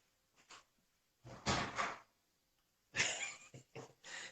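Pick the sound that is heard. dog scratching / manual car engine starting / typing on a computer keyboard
dog scratching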